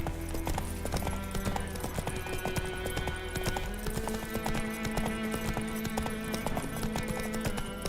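Roach, a horse in The Witcher 3, trots with a steady, even clip-clop of hooves that keeps going the whole time, loud and close, over faint game ambience.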